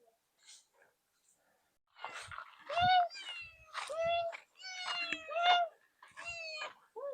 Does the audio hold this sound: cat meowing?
yes